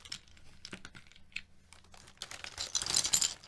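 Rapid typing on a keyboard fitted with an older set of SA profile keycaps, irregular clacky keystrokes that build into a denser, louder burst toward the end, with no voices.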